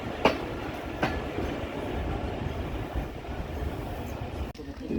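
The Rajbari Mail train rolls into rural Talma railway station in Bangladesh, its wheels clacking sharply a couple of times over a steady, moderately loud rumble of the moving carriages.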